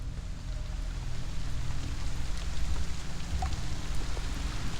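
Steady rain ambience from a tabletop game sound set, a continuous broadband hiss of falling rain with low rumble underneath, moderately loud and unbroken throughout.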